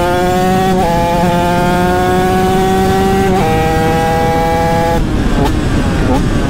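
A TM SMR 450 Fi ES four-stroke motorcycle engine runs steadily with sustained harmonic drone, pitch stepping up in revs a couple of times, loud and continuous throughout.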